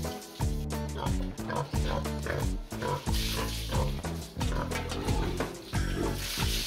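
Old mother pig on her ninth litter grunting in rhythmic, repeated deep bursts at close range, with faint background noise between grunts.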